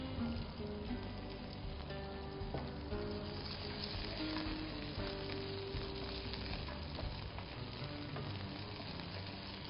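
Onion with cardamom, cinnamon, cloves and bay leaf frying in a pan, a steady dense sizzle with fine crackling, continuous and close with no voices.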